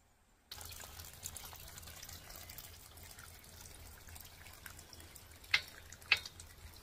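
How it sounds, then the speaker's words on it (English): Water being poured to top off dogs' water outdoors in the country, a soft continuous trickle and splash after a brief silence, with two sharper splashy clinks near the end. "Now I gotta bring the water and give the dogs a top off."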